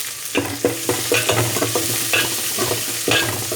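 Homemade vadagam and about ten garlic cloves fry in a pan for radish sambar, a steady close sizzle broken by repeated scraping stirs, with no talk.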